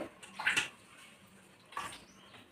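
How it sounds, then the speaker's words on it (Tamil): Karisalankanni (false daisy) greens are washed in a vessel of water, giving two short splashing, sloshing bursts separated by quieter dripping, close and moderately faint. "அந்த கரிசலாங்கண்ணியை நல்லா கழுவி சுத்தம் பண்ணி"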